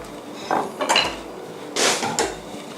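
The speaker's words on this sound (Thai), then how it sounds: "เหลือหน้าที่เพียงแค่ใส่ลงจานเท่านั้นเองนะฮะ" Grilled fish set onto a plate, with a few sharp clinks and scrapes of utensils against dishware in short separate bursts, close by and without talk.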